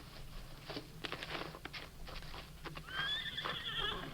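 Horses in a radio drama scene clop their hooves in scattered, moderately close steps, then one gives a shrill, wavering whinny near the end.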